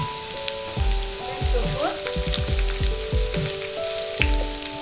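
Onions sizzle steadily in hot oil in a pan over medium heat for a coastal-style Mangalore fish curry, with a continuous close fry and repeated stirring scrapes, under brief speech.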